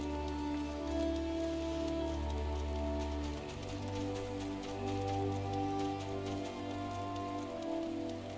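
Steady rain patter in the Final Fantasy 14 game world, a continuous hiss of drops over low ambient tones, heard alone at moderate level with no talking.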